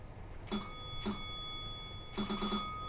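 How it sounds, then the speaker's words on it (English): Guard's door bell signal on a Class 375/377 electric multiple unit in Train Simulator 2020: clear electronic ding tones, one single ring, another single, then a quicker double ring, over a quiet cab hum. "Your bell, you give 2 bells when you finish. I like the bell as well."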